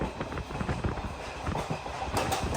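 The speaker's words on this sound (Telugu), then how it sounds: "అది చూడండి, మన ట్రైన్ క్రూజింగ్ స్పీడ్ మెల్లమెల్లగా పెరుగుతుంది." A new DEMU passenger train between Secunderabad and Siddipet runs and gathers speed, its wheels beating a rapid clickety-clack rhythm over the rails with a steady, close rumble.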